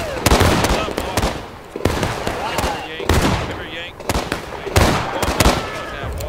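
Pistol shots crack in sharp bursts during a War of Rights multiplayer battle, loud and close with quick irregular volleys and distant reports between them.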